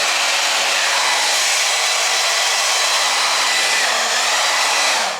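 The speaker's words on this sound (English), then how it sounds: "I'm gonna take this blow dryer and just blow, make sure everything is nice and dry before I cut it up." A handheld blow dryer runs continuously at close range, a loud steady airy roar drying hair during a quick weave styling session, with no talk over it.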